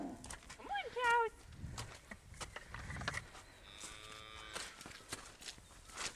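Cattle moo on a small outdoor cattle drive, one drawn-out call rising and falling near the start and another later, mixed with people calling out to the cows, footsteps and open-air background noise.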